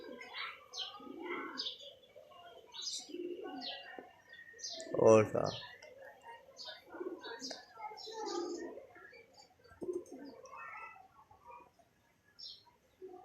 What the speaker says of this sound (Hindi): फिरोजपुरिया क्रॉस कबूतर है ये